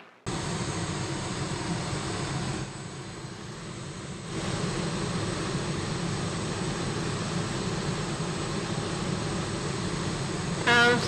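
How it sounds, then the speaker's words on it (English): A Me 163 Komet rocket plane engine roars steadily in a video game, a loud continuous blast that dips briefly and then surges back to full strength. "That is a rocket, gentlemen."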